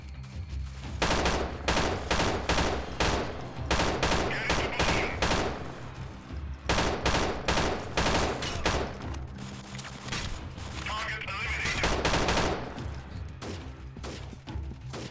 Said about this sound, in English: I'm going to switch to my SMG here just so that I can spray and pray if I need to.